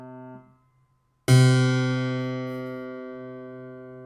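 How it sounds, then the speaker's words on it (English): Piano notes, a soft tone fading out before a single loud struck note or chord rings on and slowly decays, close and alone. "Here's the piano."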